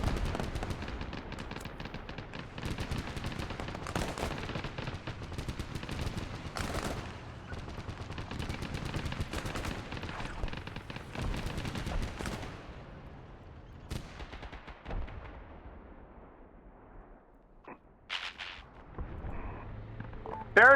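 Gunfire during a snowy night operation in Arma 3, bursts of machine-gun and rifle fire with scattered explosive thuds, dense at first then thinning into sporadic distant shots, no voices.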